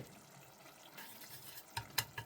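Chopped shallot fries in olive oil in a pan, a quiet steady sizzle with a few sharp clinks and stirring knocks near the end.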